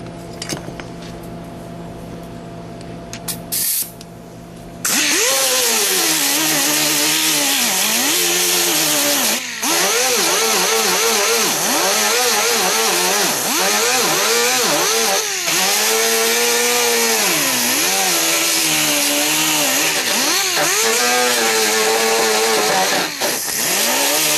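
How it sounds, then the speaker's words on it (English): An angle grinder works over a dent repair on a Fiat Spider body, running loud and steady from about five seconds on with wavering pitch as it bears on the metal, after a few seconds of quieter shop sound. "now I'll hit that with the grinder and I'll show you"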